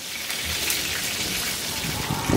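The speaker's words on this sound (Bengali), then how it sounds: "এর মধ্যে আমি বেগুনগুলো দিয়ে ভেজে নিব, যাতে 2 পিঠ ঝটপট বাদামি হয়ে যায়।" Eggplant pieces fry in hot oil for an eggplant korma, giving a loud, steady, dense sizzle that crackles continuously throughout with no pauses.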